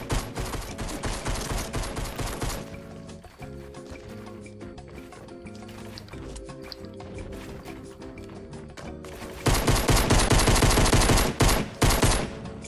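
Sustained rapid video game gunfire, dense machine-gun-like bursts that ease into a lighter rhythmic patter mid-way, then return louder and harder near the end, no talking.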